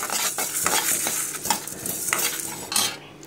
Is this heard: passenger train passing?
no